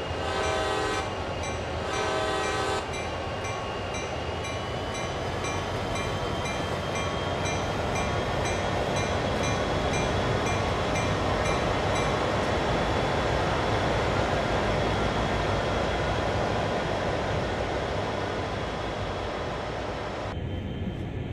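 An SD40-2 diesel freight locomotive on the Cumberland to Hyndman route in Train Sim World, a steady loud engine rumble as it departs Cumberland Yard, opening with a few short horn blasts and no talk.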